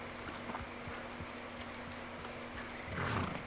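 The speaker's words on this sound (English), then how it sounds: "let me tie up Lorenzo to this hitching post" A horse in the video game Red Dead Online stands at a hitching post, with soft hoof steps and shuffling close by and a low snort or whinny near the end.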